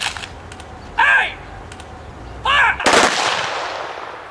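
Soldiers on a stage fire a volley of rifles, two sharp loud bursts with a ringing tail and then a third heavier blast that decays slowly, with a shouted voice between.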